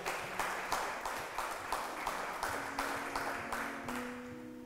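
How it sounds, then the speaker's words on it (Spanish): Congregation applauding in a church during a Spanish-language sermon, a steady crowd clapping that fades gradually over a few seconds, with a faint sustained organ or keyboard tone entering underneath. "Un aplauso a Jesús que la salvó."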